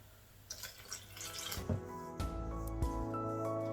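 Lukewarm water trickles in small additions onto maize flour in a bowl for makki roti dough, with drips and short pours followed by a steadier flow.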